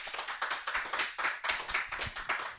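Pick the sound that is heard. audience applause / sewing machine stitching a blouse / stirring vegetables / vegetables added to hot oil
audience applause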